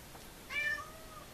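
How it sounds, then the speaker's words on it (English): A cat gives a single short, faint meow indoors, a brief rising-falling cry in the middle of an otherwise quiet room. "excuse the cat"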